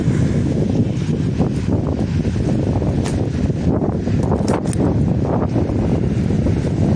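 A tram rolls along a city street in Bydgoszcz, Poland, its rumble a loud steady low roar with wind buffeting the microphone and brief metallic squeals near the end, no talk.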